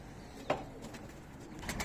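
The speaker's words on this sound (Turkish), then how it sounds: "Vallahi çok fazla kuş var." Pigeons coo softly nearby in a quiet outdoor spot, one short clear coo rising out of faint background hiss and followed by a few fainter murmurs.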